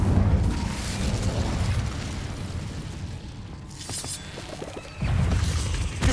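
An Incendio fire spell in Hogwarts Legacy blasts with a heavy, rumbling roar that fades, followed by lighter clattering and then a second loud burst near the end, all close and without speech.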